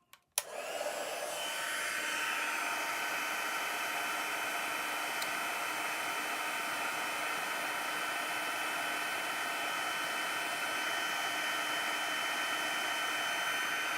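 An embossing heat gun blows steadily, a continuous loud whoosh held without a break after a brief click at the start, with no talking.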